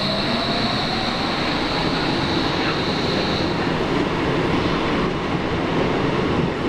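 A Hamburg metro train sits at the end of the line. A continuous loud rumble and hiss fill the interior, with a faint high whine fading partway through and no voices.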